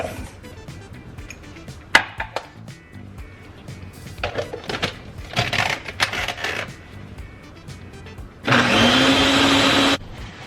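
A blender whirs loudly for about a second and a half while blending salsa verde with cilantro, after a stretch of clattering and knocking from kitchen handling beforehand.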